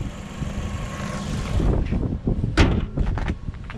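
The hood of a 2020 LADA Vesta SW Cross station wagon is lowered and shut outdoors, ending in a solid metallic thud with some rattling. Steady background rumble runs underneath throughout.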